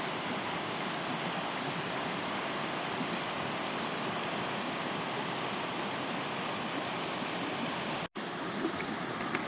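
Water rushes over the shoals of Hatchet Creek in a steady, dense, unbroken roar that stays loud and even throughout, with only a momentary dropout near the end.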